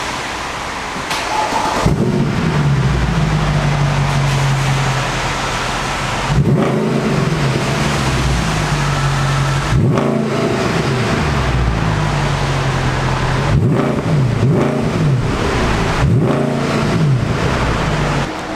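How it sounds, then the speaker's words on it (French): Mercedes E63 AMG V8 out in the rain, starting and revving repeatedly, with loud rising and falling engine swells over a steady hiss of rainfall. "Quand tu démarres le son du V8."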